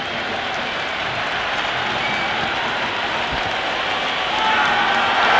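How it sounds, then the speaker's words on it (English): Crowd at an India versus England T20 cricket match, a dense, continuous roar of applause and cheering from a large stadium that swells slightly louder toward the end. "It's evident and ever so audible that the crowd is at near bursting point at today's play."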